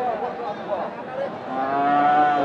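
A cow lets out a loud, close, drawn-out moo at a busy cattle market, with people chatting in the background.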